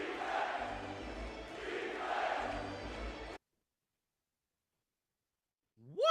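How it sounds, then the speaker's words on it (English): A basketball arena crowd chants defense at a Knicks versus Grizzlies game, a loud rhythmic roar swelling and falling for about three seconds before cutting to silence, then a brief rising tone at the end. "the crowd is chanting defense"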